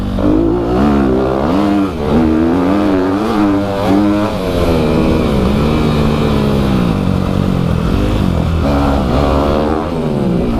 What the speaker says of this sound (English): It's a lot lighter of a bike with the same kind of engine